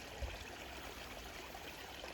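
A flowing water stream gives a steady, soft, continuous babbling and trickling, faint and even throughout with no voices.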